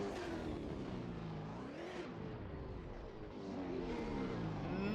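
A V8 Supercar in a racing game performs a celebratory burnout at Adelaide, its engine roaring loudly and steadily with rising and falling pitch sweeps, with no voices.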